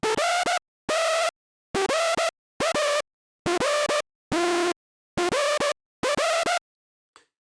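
A hardstyle lead synth, lead 1, plays a melody of bright, buzzy, gliding notes in short choppy bursts with clipped gaps, a rhythmic phrase of around a dozen stabs, followed by a faint trailing click.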